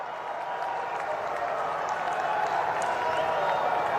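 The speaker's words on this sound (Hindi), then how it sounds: "एक बार हाथ उठाकर तालियां बजाकर उसका अभिनंदन किया जाना चाहिए इस सरकार का" Crowd at an outdoor political rally in Haldwani applauding steadily, a dense continuous wash of clapping held at even loudness throughout with a faint murmur beneath.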